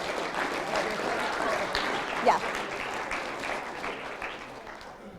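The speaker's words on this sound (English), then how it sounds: "Round of applause for my models," Audience applause for models walking across a stage at a talk, a steady sustained wash of clapping throughout with a brief voice calling out partway.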